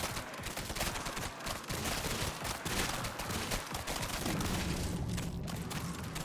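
Rapid revolver gunfire in Grind Survivors, a dense, continuous barrage of sharp shots mixed with game effects, loud and unbroken over several seconds.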